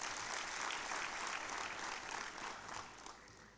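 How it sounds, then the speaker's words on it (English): Sustained audience applause at a forum session, steady dense clapping from a large crowd that holds for several seconds and tapers slightly toward the end, with no talking over it. "Please, a round of applause for him."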